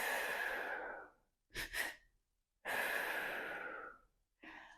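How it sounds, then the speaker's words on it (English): Someone performs a breathing exercise close to the mic: a long exhale, then two quick short sniffs in, then another long sighing breath out, with no other sound around it. "A very easy way to do that is to emulate when someone's crying. So that would be taking 2 breaths in short and 1 out."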